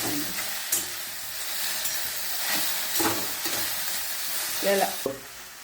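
Okra sabzi with lemon juice and salt sizzles steadily in a pan while a spoon stirs it, giving broad frying hiss with a few sharper scraping accents, close and alone.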